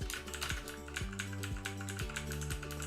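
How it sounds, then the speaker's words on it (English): Keys clatter steadily on a computer keyboard, fast close-up tapping with regular heavier strokes about every half second over a constant low hum, no voices. "Sorry about the noise of the keyboard."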